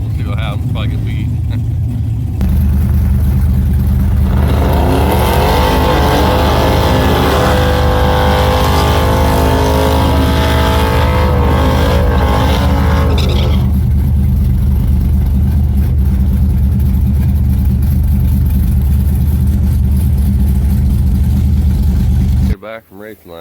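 Drag racing cars at I29 Dragway roar loudly up close, a sustained engine drone rising in pitch through the gears before cutting off abruptly near the end.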